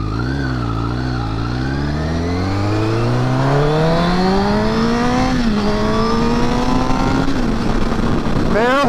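A Honda CBR1000RR sport bike engine revs up under light throttle, its pitch climbing steadily before settling into a loud, sustained high-rpm drone. A brief blip comes near the end.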